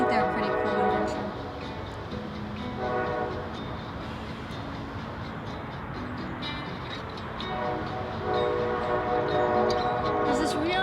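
A train passing close by, its horn sounding in long sustained blasts over the rolling rumble and clatter of the cars, loud and continuous from start to finish.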